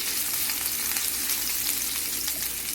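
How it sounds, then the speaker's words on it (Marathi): Chillies fry in hot oil with a loud, continuous, dense sizzle that holds evenly from start to finish, close by and with no speech. "मी त्याच्यात मिरची ऍड करते आणि मिरची छान आपण तेलात भाजून घेऊया"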